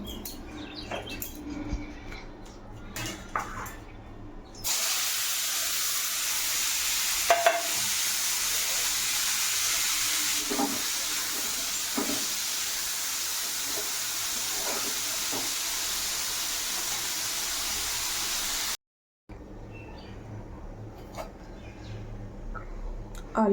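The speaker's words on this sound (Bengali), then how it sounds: "এখন এটা ভাজতে দেব আলু" Potatoes frying in a pan, a loud steady sizzle that starts abruptly and runs for about fourteen seconds before cutting off, with quieter kitchen clatter and stirring before and after.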